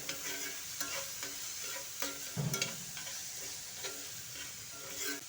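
Onions sautéing in a pan while cooking agathi (hummingbird tree) leaf stir-fry, with a soft steady sizzle and irregular scraping stirs of a spatula against the pan, fairly quiet throughout.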